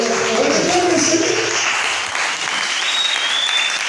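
A church congregation applauds, a dense wash of clapping that stays loud for the first two seconds and then gradually thins, with some voices faintly mixed into the crowd.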